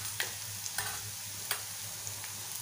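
Tomato and turmeric masala for a Malvani-style prawn tava fry sizzles steadily in oil on a tava, with a few sharp spatula scrapes and taps roughly every half second to second as it is stirred, close and fairly quiet, no voices.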